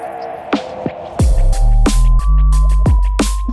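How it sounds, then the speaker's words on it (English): Synthesized sine wave tones in 31-EDO valentine temperament, clean sustained pitches stepping from note to note with soft low thumps at each change, loud and close, no voices. "And it's just a sine wave,"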